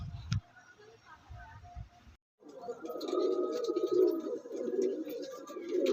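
Pigeons coo close by, with soft scattered calls at first, then a brief pause followed by a continuous low, throaty cooing that swells and holds to the end.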